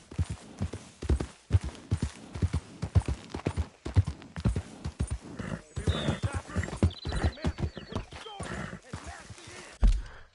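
In the video game Red Dead Redemption 2, horses pulling loaded wagons move out with steady close clip-clop hoofbeats, a whinny, and rolling wheel and harness noise, while voices speak over it.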